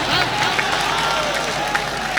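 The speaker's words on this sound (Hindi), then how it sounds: "सब खड़े होकर जोरदार तालियों से स्वागत कीजिए हामिद साहब का" Applause from a poetry-gathering audience welcoming the poet Hamid Bhusawli at an All India Mushaira, a dense steady patter of many hands with crowd noise mixed in.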